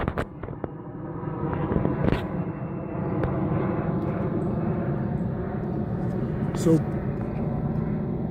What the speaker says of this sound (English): I don't know if you guys can hear me over the plane